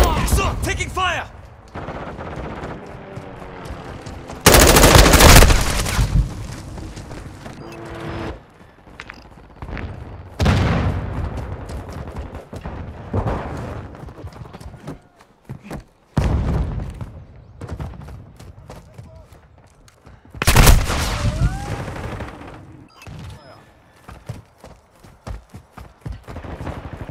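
Gunfire in Call of Duty: Modern Warfare II multiplayer comes as loud bursts of rapid automatic fire and heavy blasts, with quieter gaps between volleys and occasional voices under the shooting.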